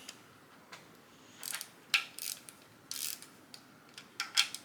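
Metallic ratcheting and clicking from a torque wrench tightening bolts on a turbocharged Mazda Miata engine build, in short separate bursts with quiet gaps between them, fairly close and moderately loud.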